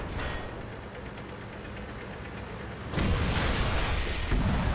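A World of Tanks artillery shell explodes close by in a battle, a loud sudden boom that cuts through a constant roar of tank engine and battle noise, with no voices.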